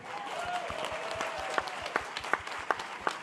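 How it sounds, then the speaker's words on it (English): A crowd claps at a Democratic candidate forum for Virginia's 11th Congressional District. The applause is moderate and scattered, with a few sharper individual claps standing out near the end. "give yourselves a huge round of applause"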